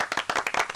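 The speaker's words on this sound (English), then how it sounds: "I'm having a round of applause as well." A brief, dense burst of hand clapping from a small group follows a talk radio exchange, close and lively, lasting under a second with no voices over it.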